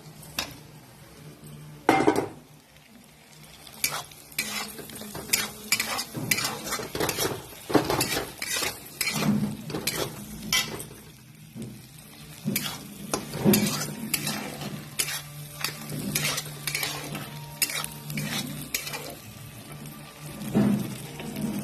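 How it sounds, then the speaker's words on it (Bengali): Pre-fried potatoes are added to a frying pan with spiced oil for a tengra fish curry, then stirred. The spatula scrapes and clanks repeatedly and irregularly against the pan over a low sizzle, close up and with no voices. "আগে থেকে ভেজে রাখা আলুটা দিয়ে দিলাম।"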